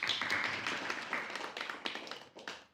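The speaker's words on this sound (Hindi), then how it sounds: "हाँ, इनके लिए तालियां बजाइए।" An audience claps in a dense burst of applause that starts loud and thins out into scattered claps over a couple of seconds.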